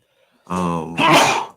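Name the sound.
sneeze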